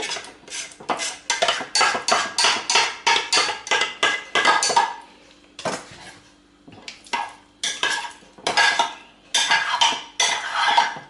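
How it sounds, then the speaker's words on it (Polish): Set jelly cut into cubes with a knife, a fast run of rhythmic tapping strokes against a board or dish, pausing briefly, then continuing in quick bursts. "Nacinam wzdłuż i później kostkę."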